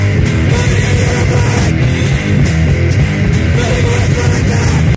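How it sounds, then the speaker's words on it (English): Fast, dense 1990s California power violence hardcore punk: distorted guitars, bass and relentless pounding drums form a loud, saturated wall of noise with frantic rhythm throughout. "hardcore bands from California back in the 90s that played really fast, really short songs"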